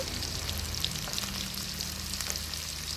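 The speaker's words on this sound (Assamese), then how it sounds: "এইখিনি দি অকণমান দেৰি ভাজিম।" Spices frying in a pan with ginger-garlic paste, garam masala, salt and turmeric: a steady, close sizzle with dense crackling pops throughout, no voices.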